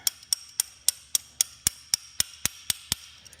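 Steady metal-on-metal tapping as an easy out screw extractor is driven into a drilled-out screw during a K20 engine swap, about a dozen sharp, evenly spaced hits, close and alone.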